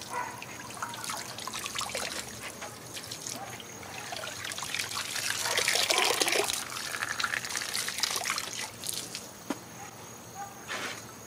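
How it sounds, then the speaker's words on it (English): Water trickles and splashes steadily over potted plants being rinsed of soap after a 25-minute soak, outdoors, with insect chirping in the background and no talking. "water them really well to get all the soap and stuff off of them"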